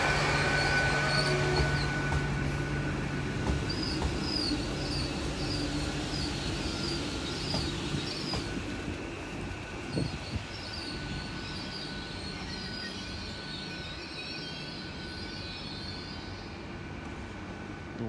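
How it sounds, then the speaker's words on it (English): A South Western Railway train arrives at Exeter St Davids station, heard as a steady mid-distance rumble with faint wheel squeal and high tonal whine throughout, no talking. "it looks like we have that South Western Railway train coming in from the new yard as well"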